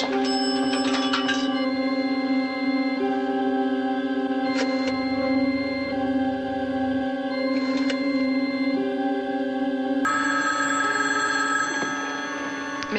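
Old office telephone bell ringing insistently, a loud, sustained metallic jangle with brief shifts in tone, continuing without pause and with no voices over it.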